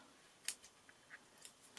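Scissors snipping off excess material while crafting layered Christmas letters and stars, a few quiet, crisp cuts spaced apart in a calm room with no talk.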